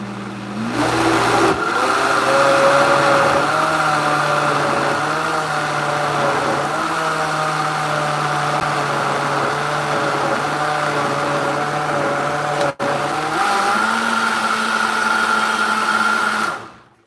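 A vacuum blender whirs steadily for about seventeen seconds, its motor pitch shifting slightly as it runs, with a short stutter near the end before it winds down; loud, close and continuous, with no talking.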